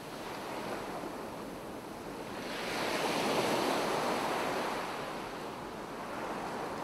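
Ocean waves and surf wash in a steady broad rush that swells to a peak and recedes, soft and continuous, with a hint of wind and no voices.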